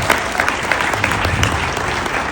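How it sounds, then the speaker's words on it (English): An audience claps for a program, steady dense applause filling the room, moderately loud and continuous for a couple of seconds with no voices over it. "I'd like a round of applause for that."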